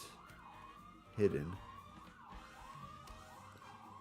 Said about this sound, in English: Apologies if you can hear the sirens outside.